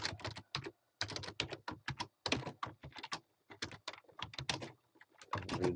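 Fingers type on a computer keyboard in quick, close, distinct bursts of clicking keys separated by short pauses, with no voices.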